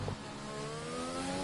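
An F1 race car engine in a video game of the Spanish Grand Prix drones in a loud, continuous tone, its pitch climbing steadily as it runs up through the gears.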